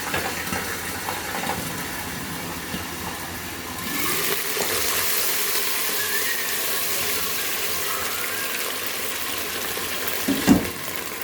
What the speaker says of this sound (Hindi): अब मैं इसमें थोड़ा सा पानी डाल के तो इसको तड़का बंद कर दूँगी